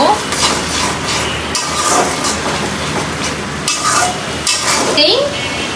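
Spice masala of garlic and ginger paste with chilli, turmeric, coriander and cumin powders frying in a pan: a loud, continuous sizzle with spatula scraping and occasional clatter, close up.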